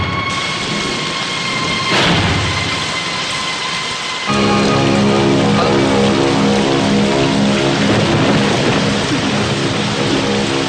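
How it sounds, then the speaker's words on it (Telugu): Steady, heavy rain pours down on a hard surface, loud and continuous, with a brief low rumble early on. "పదరా వర్షం వస్తుంది"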